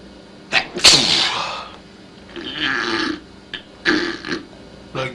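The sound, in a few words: voice imitating pig snorts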